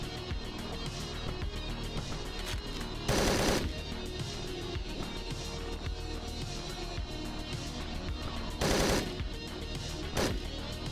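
Rapid machine gun fire from the game Hotline Miami 2 rattles loudly in two short bursts over a dense, continuous background of game music and effects, with no talk.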